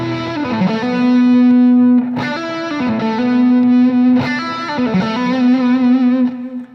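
An overdriven electric guitar plays sustained, warmly distorted chords and single notes with a smooth, creamy crunch, a tube used as a boost, no voices present.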